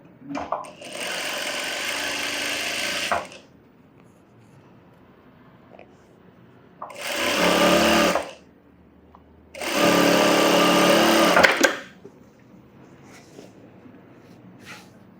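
A sewing machine runs in three bursts while edge-stitching a scalloped blouse, the first about two seconds, then a short one and a longer one, loud and close with quiet pauses between.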